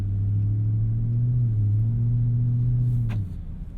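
A 2024 Ford F150 Raptor R idles or cruises with its exhaust in normal mode, producing a steady deep drone that holds evenly for about three seconds before dropping off.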